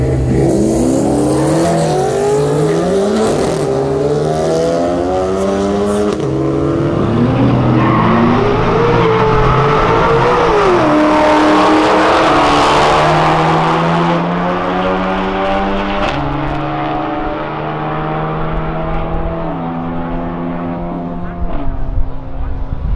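A Camaro and a Golf GTI street race car accelerate hard in a street race, engines climbing through gear after gear in rising, stepped howls. The roar stays loud throughout while a crowd or announcer talks underneath.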